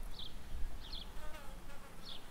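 Bees buzz around flowers left growing among olive trees on a farm in Portugal, a few brief buzzes passing close over a faint outdoor background with no talk.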